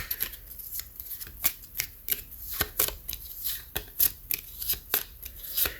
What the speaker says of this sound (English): These smaller, thinner decks are very difficult to shuffle.